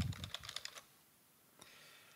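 Short flurry of typing on a computer keyboard, close and light clicks for under a second, then near silence with one faint tap.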